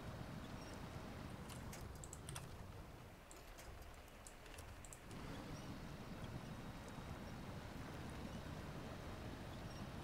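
A small boat's engine runs steadily in the SnowRunner driving game, a low, continuous rumble with a brief dip midway and scattered faint clicks, heard alone without talk.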